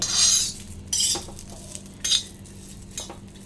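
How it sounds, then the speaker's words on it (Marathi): Chopped cluster beans roast on a hot griddle as a utensil scrapes and stirs them in four distinct bursts of metallic clinking and rasping. A faint sizzle runs between the bursts, close up, with no talk. "आता याला आपण छानपैकी भाजून घेऊ घेणार आहोत"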